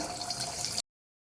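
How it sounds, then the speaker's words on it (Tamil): Chicken pieces dropped into hot oil for deep frying set off a steady, close hiss of sizzling that stops abruptly after under a second. "இப்போ நான் ஒரு ஒரு சிக்கனாக போட்டு பொரித்து எடுத்துக்கிறேன்"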